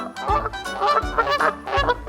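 A goose honks in short repeated bursts, harsh and nasal, close and fairly loud against a light rhythmic music bed.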